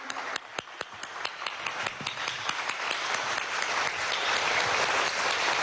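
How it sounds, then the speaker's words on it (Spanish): Warm applause fills the Salón Elíptico of Venezuela's National Assembly during a tribute to a deputy, starting with a few distinct claps and swelling into dense, steady clapping from a large audience. "Y un aplauso efusivo para nuestro Eal."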